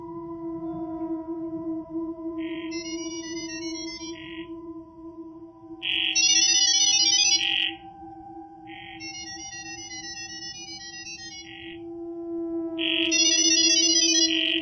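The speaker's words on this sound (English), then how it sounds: "using audio signals that are much easier and quicker for AI bots to interpret" Gibberlink-mode data-over-sound signals between AI bots: bursts of warbling, chirpy electronic tones, alternating between two slightly different patterns, repeat four times over a steady low hum. No voices.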